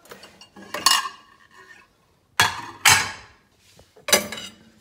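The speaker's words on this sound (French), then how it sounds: "Les couverts, ça c'est le plus pénible à ranger." Cutlery is put away in a kitchen drawer in a series of sharp metallic clatters and clinks, several close bursts separated by short pauses.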